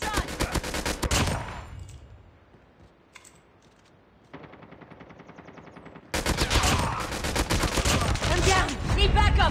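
Bursts of rapid automatic gunfire fill a team deathmatch video game, loud and dense at the start, dropping to a quieter stretch, then returning as sustained heavy firing to the end.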